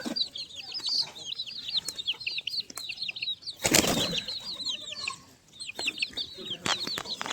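Pigeons being hand-fed, with repeated wing flaps and fluttering close by, a loud burst of flapping midway, and clucking calls and chirps from other birds throughout.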